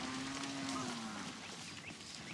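A cow gives a single drawn-out low moo that slowly falls in pitch, fairly close, over a steady background wash.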